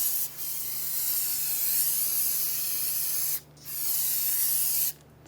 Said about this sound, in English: Spray it down with some brake parts cleaner.